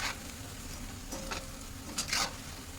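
Vegetables sautéing in a pan: a faint, steady sizzle with a few brief stirring scrapes near the end and no talk.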